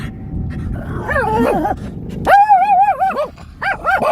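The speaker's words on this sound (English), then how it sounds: "There's a doggy over here, Mommy. There's a puppy." A puppy yips and whimpers in a few short bursts, one longer rising-and-falling cry in the middle, close by and fairly loud over a low background rumble.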